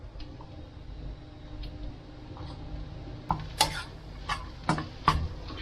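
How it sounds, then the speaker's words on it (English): Quiet kitchen background gives way to a few soft scraping clinks and taps as food coloring is stirred into egg fried rice, spaced irregularly near the end. "Mix the coloring in like you mix your Nippon paint"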